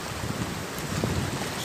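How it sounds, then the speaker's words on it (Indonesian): Big ocean waves seen from the water while waiting for a pickup boat: a dense, constant roar of surf and wind, loud and close, with no break. "Kalau ombak besar kayak gini nih, nunggu jemputan terasa lama."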